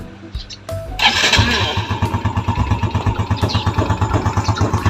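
A Yamaha Sight motorcycle engine cold-starts after an oil change, cranking and catching, then settling into a loud, steady, pulsing idle close by.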